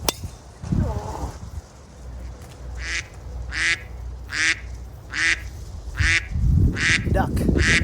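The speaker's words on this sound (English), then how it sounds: "Duck." A duck on a golf course quacks repeatedly in short, evenly spaced bursts, fairly close and distinct, with a person's voice briefly at the start and a rustling, clinking noise near the end.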